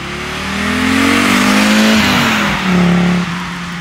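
A 1983 Audi Quattro coupé with a turbocharged five-cylinder engine and all-wheel drive accelerates hard, its loud, close engine note climbing in pitch, dipping briefly at a gear change, then rising again.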